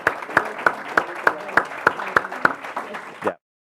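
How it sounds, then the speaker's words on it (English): An audience applauds panelists at the close of an economic competitiveness discussion, with rhythmic, evenly spaced claps standing out over the crowd before the sound cuts off abruptly. "Applause for them"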